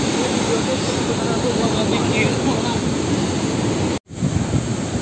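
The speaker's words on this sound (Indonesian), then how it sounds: "Lihat ombaknya." Ocean waves break against the rocks at Cicaladi Karang Bolong beach in a steady, loud, broadband roar that fills the whole clip, with a brief dropout near the end.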